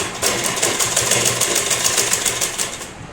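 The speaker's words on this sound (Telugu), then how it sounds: "ఇలా చుట్టుప్రక్కల మొత్తం క్లాత్ అంతా మడత పెట్టుకుంటూ కుట్టుకోవాలి." A sewing machine stitches along the folded cloth edges of a house mat, a loud, close, rapid mechanical chatter of needle strokes running continuously before easing off at the end.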